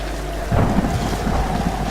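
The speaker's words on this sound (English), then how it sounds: "it's been raining in this game for like the entire time now" Rain and thunder roll through a stormy scene in Tomb Raider Definitive Edition, a loud, low rumble building over a steady hiss of rainfall, with no voices.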